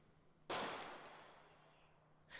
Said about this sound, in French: des coups de feu retentissent